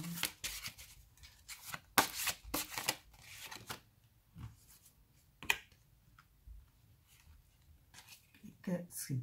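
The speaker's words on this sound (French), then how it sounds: "Alors je tire encore des cartes" Tarot cards are shuffled and drawn, giving quick, soft riffling and slapping bursts and light taps, close and quiet, while someone speaks in French between them.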